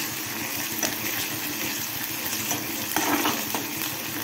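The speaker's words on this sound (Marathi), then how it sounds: "मी कांदा थोडा वेळ परतून देते" Onion sautéing in a pan gives a steady, close sizzle throughout, with a few light stirring scrapes and clinks along the way.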